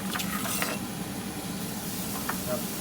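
Shallots stir-fried in a pan make a soft, steady sizzle under occasional light scraping and stirring clinks, fairly quiet and close.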